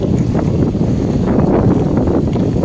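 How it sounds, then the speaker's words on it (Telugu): Open-air wind in a rural village, heard as a loud, low, rushing rumble buffeting the microphone steadily with no breaks. "ప్రశాంతమైన గాలి"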